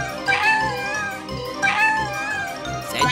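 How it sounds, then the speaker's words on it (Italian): A kitten meows several times, high-pitched and close, with short pauses between cries and faint background murmur. "Senti il rumore di un gattino?"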